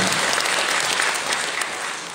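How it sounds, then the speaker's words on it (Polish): Sustained applause from a concert audience at a big band performance for seniors, a dense, steady clapping wash that fades slightly toward the end, with no talk over it. "również brawa wielkie dla pani Aldonka."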